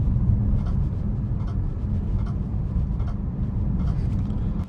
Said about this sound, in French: ce que vous entendez là, c'est le bruit du clignotant.